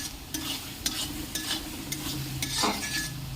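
Goat meat frying in oil is stirred with repeated scraping strokes at an irregular pace over a steady close sizzle, with a low hum running underneath and no voices.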